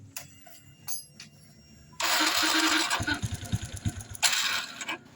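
A fuel-injected Honda Revo Fit motorcycle engine cranks and catches after a quiet stretch, then runs loud and close with uneven pulsing revs and a final burst of throttle.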